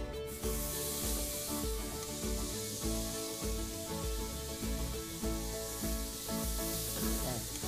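Kikkoman-marinated spicy pork belly sizzling on a hot griddle, a steady broadband frying hiss running continuously and fairly loud without pause, with no talking over it.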